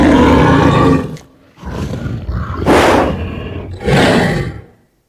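A creature roar built from three different animal sounds layered together, loud and close, rising in several long bursts separated by brief pauses, with no talking.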